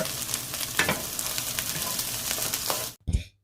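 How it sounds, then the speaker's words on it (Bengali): Boiled chickpeas stirred as they fry in a pan, a steady close sizzle with scraping strokes of a spoon that cuts off abruptly near the end, leaving a brief clatter. "দিয়ে ভালো করে নাড়িয়ে চাড়িয়ে নেব।"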